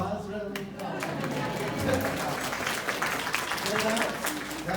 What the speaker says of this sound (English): That's called pity applause.